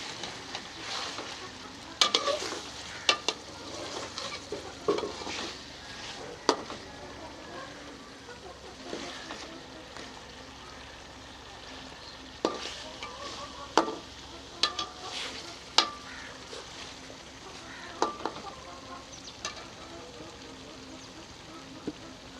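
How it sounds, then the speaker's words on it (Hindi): Fish fries in masala in a karahi with a soft continuous sizzle, broken by repeated sharp scrapes and clacks of stirring spread across the stretch. "इसे मसाले में भून लेते हैं"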